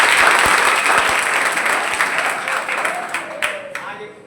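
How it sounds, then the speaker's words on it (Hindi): Loud welcoming applause from an audience at a coaching centre, dense clapping that gradually thins and fades toward the end. "जोरदार तालियों से स्वागत।"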